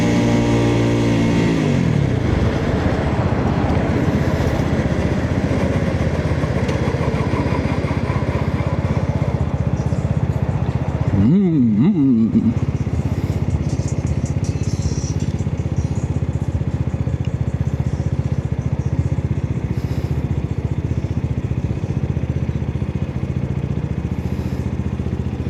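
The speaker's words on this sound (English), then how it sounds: "So right now, I'm turning off my bike in first gear." Motorcycle engine running loudly and close with a steady rumble, briefly cutting out partway through, then settling into a continuous idle, no talking.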